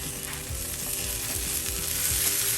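Just Egg plant-based egg fries in an oiled pan as a spatula stirs it, giving a steady close sizzle with light scraping over low background tones.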